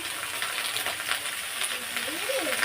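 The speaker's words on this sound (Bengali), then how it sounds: "এই যে টমেটো দিয়ে দিয়েছি দিয়ে ভাজা ভাজা হয়ে গেছে" Chopped tomatoes sizzle steadily in hot oil in a pan while a curry is being cooked, giving a close, even crackle with soft stirring.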